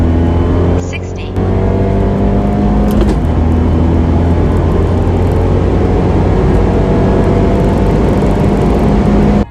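Loud, close engine drone of a turbocharged 1.4L MultiAir car with a big turbo, accelerating hard through second to fourth gear on a cool day, with a brief break near one second as it shifts, then a steady roaring pull.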